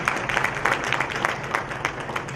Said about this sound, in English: people who are clapping